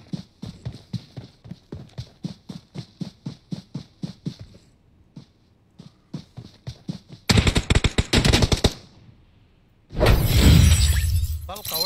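Gunfire in the mobile battle-royale game PUBG Mobile: a long run of evenly spaced single shots, a short pause, then dense rapid automatic bursts and a loud sustained blast of shooting, close and sharp.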